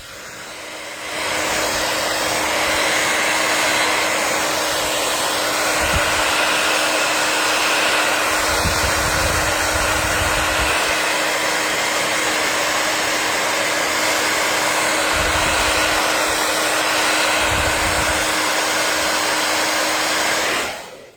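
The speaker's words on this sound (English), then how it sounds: "I'm going to hit it with the blow dryer" A blow dryer roars steadily for about twenty seconds, loud and close, with a constant high whoosh and a few low bumps as it's moved.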